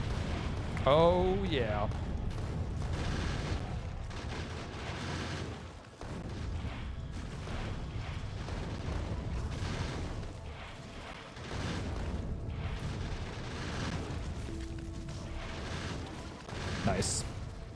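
Rockets exploding in Factorio: Space Age, a series of deep booming blasts and rumbling detonations recurring every few seconds, with a brief spoken remark near the start.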